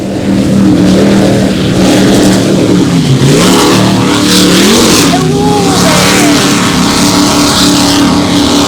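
Racing powerboats at the UKOPRA Poole Bay 100 roar past, loud sustained engine drone with pitch sweeps as the boats pass and fade, constant high-level throb throughout.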